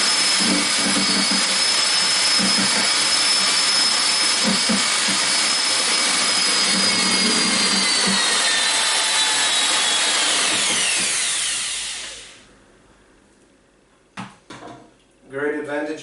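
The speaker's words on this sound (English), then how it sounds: "So I'm using a drill with my Rapido honey" A power drill fitted with a honey mixer attachment stirs mead, a loud sustained whirring drone with a slowly falling whine that spins down and stops, followed by a few brief clunks and a moment of talk.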